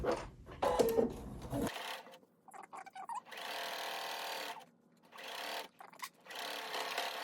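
A sewing machine sews down quilted scrap fabric for a tulip square glass case in several close bursts of stitching separated by brief pauses, without speech.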